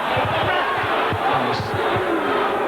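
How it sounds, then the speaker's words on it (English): A rugby league crowd at a Salford versus Dewsbury John Player Trophy match reacts with loud, sustained jeering and shouting, a dense roar of many voices that stays level throughout. "The crowd didn't like it, certainly."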